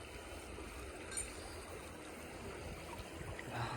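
Cold water runs steadily in a shallow village stream, a close, continuous burble and trickle with no voices.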